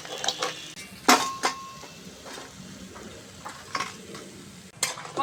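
Masala bori frying in hot oil, a soft steady sizzle broken by sharp clinks and scrapes of a utensil stirring in the pan.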